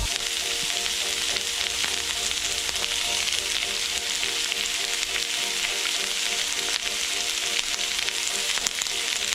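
Chopped onions sizzling in a little oil in a pan for French onion soup, a loud, continuous close-up crackle with constant bubbling and no one speaking.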